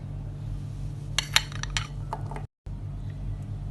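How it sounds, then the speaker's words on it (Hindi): Falsa berries tipped into a jug give a brief flurry of light clicks and clinks at close range over a constant low hum, with no talking. "जग में डाल दी हमने फालसे"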